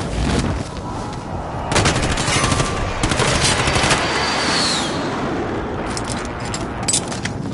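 A sustained barrage of rapid automatic fire from an air strike in the video game Warzone, loud, with dense rattling bursts, brief lulls and a faint whistle midway.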